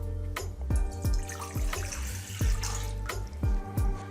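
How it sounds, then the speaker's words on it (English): A litre of water poured into a pot for green pepper tea, a close continuous splashing stream punctuated by repeated glugging plops, with no talking. "Add 1 liter water."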